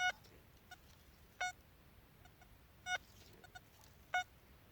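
An XP Deus metal detector on its deepest setting with slow sweeps gives four sharp, faint electronic beeps at roughly regular intervals over a quiet outdoor background.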